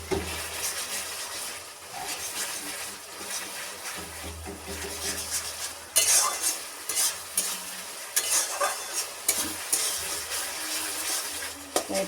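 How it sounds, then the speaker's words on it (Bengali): Masala spices being stir-fried for a Bengali country chicken curry, the spatula scraping and stirring in the pan with a steady sizzle, repeated sharp scrapes over a continuous frying hiss, close and alone. "সুন্দর ফ্লেমে মশলাটাকে সুন্দর করে কষিয়ে নিতে হবে"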